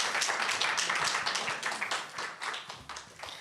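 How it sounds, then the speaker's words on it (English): Audience applause at a conference live stream, a dense steady patter of many hands clapping close and fairly loud, fading slightly toward the end with no talking. "Quick round of applause for Jeff Trimble"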